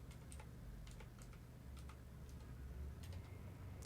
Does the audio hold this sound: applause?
no